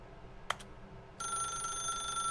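A telephone rings in The Stanley Parable, a video game: a brief bright double ring near the start, then a steady, sustained electronic ringing tone that continues loudly to the end over a quiet room hum.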